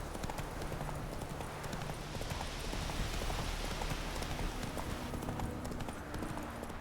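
Steady clip-clop of hooves as Roach, Geralt's horse in The Witcher 3, trots along at an even rhythm, close and continuous under a rain-like, wind-swept outdoor wash, with no talking.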